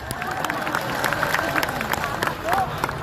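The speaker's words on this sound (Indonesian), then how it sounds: "tepuk tangan boleh nggak Pak?" An audience at a lively Indonesian religious talk claps amid crowd murmur, the clapping fairly quiet and uneven, with scattered sharp claps and voices mixed through the babble.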